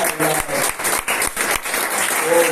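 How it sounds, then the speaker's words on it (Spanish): Steady, loud applause from a congregation during a Spanish-language church service, dense clapping filling the space continuously with a few stronger bursts. "Dale un aplauso al Señor."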